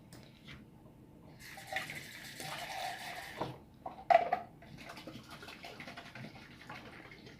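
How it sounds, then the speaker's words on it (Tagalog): Water pours from a container onto soaked glutinous rice and canned coconut milk in a pot, a soft continuous splashing and trickling that swells midway with a brief louder gush, faint and close. "Lalagyan po natin siya ng tubig."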